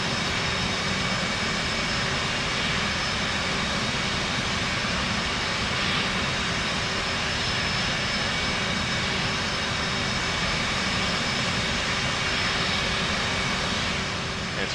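An F/A-18C Hornet jet engine spooling up in DCS, a steady loud whine and roar with a sustained tone holding throughout, while people talk over it.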